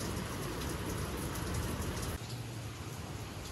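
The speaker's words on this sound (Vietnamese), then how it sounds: "Giữa tiết trời mưa mưa thế này" Steady heavy rain pours down in Saigon, a dense continuous hiss and patter that drops slightly in level partway through, with no voices.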